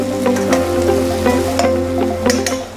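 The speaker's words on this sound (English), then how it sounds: "you're basically flash frying it" Lamb strips flash frying in a hot pan for Mongolian lamb, a steady loud sizzle broken by brief bright crackles and pops, close by, with a low steady hum beneath and no talking.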